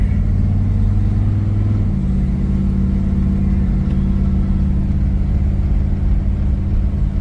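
A Plymouth Belvedere's engine runs steadily while the car is driven, with a low, continuous mid-range hum that stays loud and close throughout, with a slight shift in pitch near the start.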